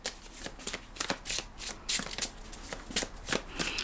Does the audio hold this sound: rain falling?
no